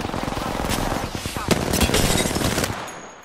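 Rapid automatic gunfire in the battle royale game Apex Legends, a dense burst of repeated shots that is loud and close, with scattered heavier cracks and no talk.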